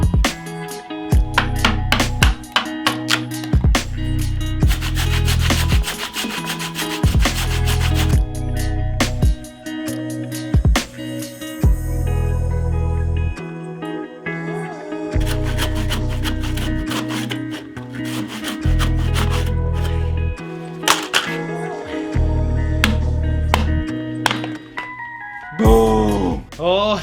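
A hand saw cuts through a 32 cm wooden log in long, rhythmic back-and-forth strokes, loud and close, with pauses between bursts of sawing and background music playing throughout.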